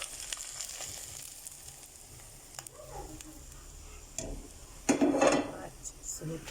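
Samp and browned onions in butter cook in a pot with a faint, low sizzle and occasional clatter and stirring knocks, growing briefly louder near the end.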